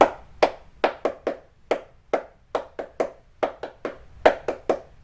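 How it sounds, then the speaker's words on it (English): Crisp, close hand claps in a cheerleading tryout routine, a steady syncopated pattern of single and paired claps at a moderate tempo with no talking. "that's pretty much the speed of the claps"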